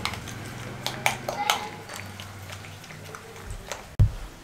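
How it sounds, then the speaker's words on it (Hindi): Spiced egg mixture for a bread omelette being stirred in a bowl, giving a few scattered clinks and taps of utensil on dish, quiet and close, with a sharper knock near the end. "अच्छे तरीके से मिक्स कर लें।"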